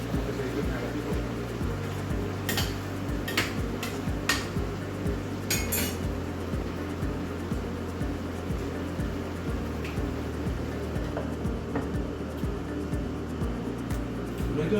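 A spoon stirs chicken curry in a metal cooking pot, making repeated clinks and scrapes against the pot at close range over a steady background hum.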